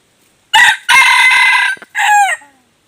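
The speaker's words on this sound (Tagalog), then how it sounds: "Grabe talaga tumilaok si limbiyugin. Signature talaga ni limbiyugin yung tilaok niya." A wild jungle fowl rooster (labuyo) crows loudly and close by in three long bursts, with brief pauses between them; the last burst trails off into a falling call.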